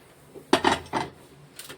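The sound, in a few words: turning roasted dry fruits in a pan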